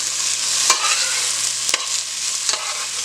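Onion and thyme sautéing in a pan ahead of turkey wings, a steady close sizzle broken by a few sharp stirring scrapes, with no voices over it.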